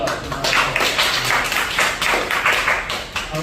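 Classroom applause for a correct answer: a group of people clapping together, a steady, close, fairly loud patter of claps lasting a few seconds with no talk over it.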